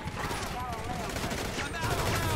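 Gunfire in GTA 5 during a police fight defending the president against rioters, a dense continuous fusillade of rapid shots mixed with game noise, steady and loud throughout.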